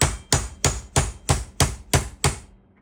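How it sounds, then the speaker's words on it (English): Pin punch tapped with a hammer to drive pins out of a 1969 Dodge Charger R/T Hurst four-speed shifter: eight sharp, evenly spaced metallic strikes, close and loud, with no talk. "let's see if we can just tap these pins out."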